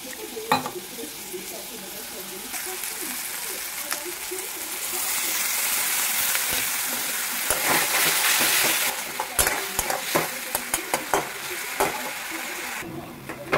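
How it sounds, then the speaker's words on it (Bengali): Spice paste with tomato, ginger, chilli powder, turmeric and cumin sizzles steadily in hot oil for a lentil dish, with a spoon scraping and stirring in repeated close clinks and scrapes over the continuous fry. "মশলাটা বেশ ভালো কষানো হয়ে গেছে, দেখো তেল ছেড়ে দিয়েছে।"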